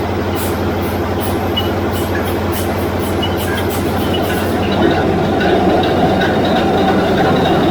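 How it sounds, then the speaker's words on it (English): A heavy electric starter motor turns over a Wärtsilä V12 engine through a high-reduction gear, giving a loud, steady mechanical drone with rattling and clattering that holds unbroken for about eight seconds. "That's the electric motor that turns the engine over when we're servicing it."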